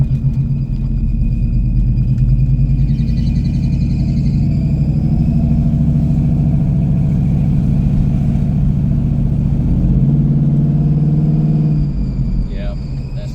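A 1996 Impala SS V8 revs under load with a slipping transmission, its loud, steady drone rising and sagging as the gear fails to catch, with people talking over it.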